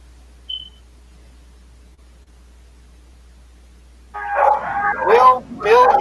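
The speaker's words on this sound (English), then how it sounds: "Dog." A dog barks a few times close by in a house, loud sharp yips and woofs at the end after a quiet stretch, with a brief thin squeak earlier.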